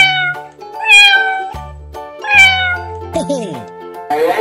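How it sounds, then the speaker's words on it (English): Two clear, close cat meows with rising and falling pitch, set over steady cartoonish background music tones and a short jingling flourish near the end, in an animal-guessing escape room game. "Cat."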